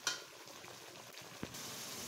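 Spices frying in hot oil in a pan, a soft continuous sizzle with faint stirring scrapes and a brief clink, quiet and close with no voices.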